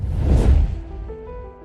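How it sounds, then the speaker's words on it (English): A deep, low whoosh sound effect made for big transitions, a single rushing sweep that swells to a peak and then fades out with a faint tonal tail, heard alone. "for large transitions with a big impact, you want to add a deep low whoosh sound effect"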